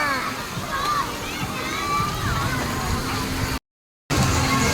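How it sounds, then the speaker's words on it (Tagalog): Water pours and splashes in a continuous rush at an outdoor splash playground, with children's voices chattering and calling over it, then a brief cut to silence. "Magbubuhos yung tubig."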